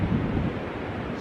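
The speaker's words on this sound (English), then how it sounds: "It's pretty windy out there" Strong wind gusts outside a garage, buffeting trees and the microphone with a loud low rumble that eases a little over a second, no talk.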